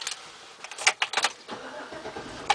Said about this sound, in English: Go ahead and turn on the car now.